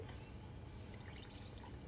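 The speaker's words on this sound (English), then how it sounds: "So I'm just pouring in my water." Water pours in a steady, quiet stream into a mixing container while preparing a mix for a trinket tray, a soft continuous trickling without any talking.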